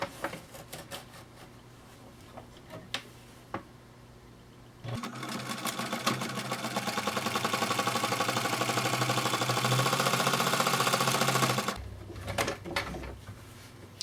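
A sewing machine stitching fabric for a striped pencil case: a few quiet clicks, then a loud, continuous close-up motor whir for about seven seconds before it stops and the handling clicks resume.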